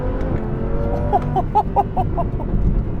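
An Audi R8 V10 Plus accelerating hard on the gas, the engine note climbing through a quick series of rising pulses, loud and close.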